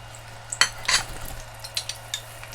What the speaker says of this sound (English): The oil is hot, so I'm going to add all the peppers.